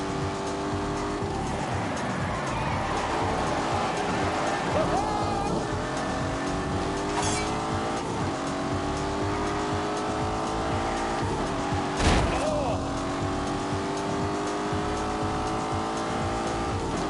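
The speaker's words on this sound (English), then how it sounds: "It's a 4-litre V8. It has twin turbos." Twin-turbo 4-litre V8 of a 510-horsepower car in The Grand Tour Game on PS4, revving and shifting through rising gear sweeps, with brief tire squeals and a sharp burst around the middle, loud and continuous with no voices.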